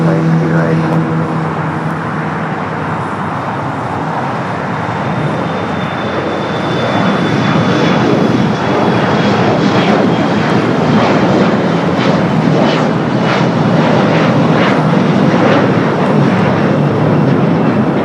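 An airliner roars at Los Angeles LAX airport, a loud broad engine rumble that swells and holds steady for the whole stretch, with a faint high whine riding on top. Nobody speaks over it.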